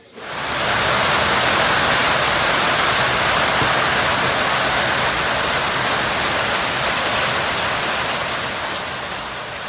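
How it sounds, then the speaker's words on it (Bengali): Heavy rain pours at dusk at a hill homestay in Lepchakha in the Dooars, a loud, dense, unbroken roar that starts abruptly and holds steady, easing only slightly toward the end. "সে কি বৃষ্টি!"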